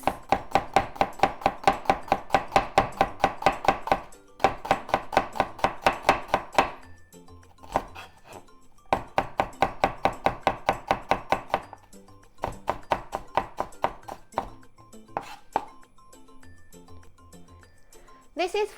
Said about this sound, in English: Then slice.